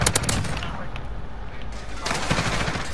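Video game gunfire: dense, loud bursts of rapid shots fill the opening and return near the end, with a steady firefight din between.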